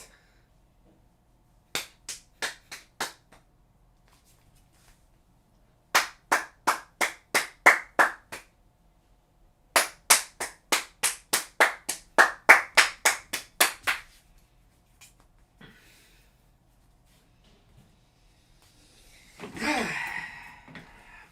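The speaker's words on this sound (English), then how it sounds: "You ready to see how my ass claps?" Bursts of loud bare buttocks clapping in rapid rhythmic runs of slaps with pauses between sets, close by, followed by a short breathy sigh.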